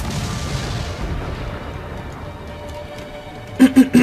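Mortar fire in the pirate naval game Assassin's Creed 4 Black Flag: three quick, loud booming shots in close succession near the end, following a low rumbling battle ambience.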